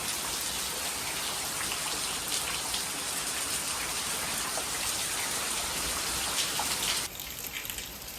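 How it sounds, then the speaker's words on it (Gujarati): Heavy monsoon rain pours down in a steady, dense hiss, loud and close. Its texture shifts slightly near the end but continues without pause. "જો વરસાદ છે ને, તો સવારથી ચાલુ જ છે, મૂકતો જ નથી વરસાદ."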